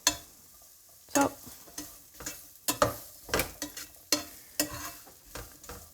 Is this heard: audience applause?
no